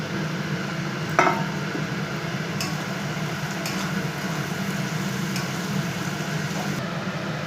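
Chopped vegetables and scrambled egg for pasta fry in a pan with a steady close hiss, broken by an occasional clink of a utensil against the pan while stirring.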